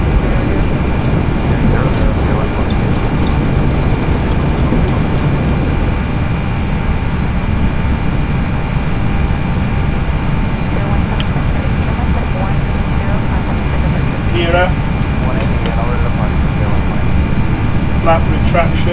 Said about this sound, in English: Increase throttle to maximum for takeoff at high altitude.